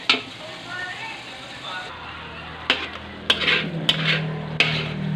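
Latik cooking in a talyasi pan gives a soft sizzle, followed by several sharp metallic scrapes and clanks as it is stirred, with a voice speaking.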